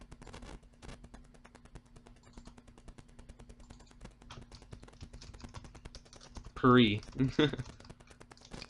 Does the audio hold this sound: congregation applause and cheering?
no